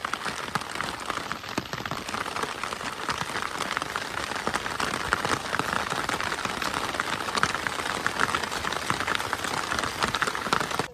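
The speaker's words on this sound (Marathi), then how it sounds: "पाऊस आलेला आहे जोरात जाम जोरात" Heavy monsoon rain pours steadily on farm fields, a dense continuous hiss of drops pattering on surfaces with no pauses or voices.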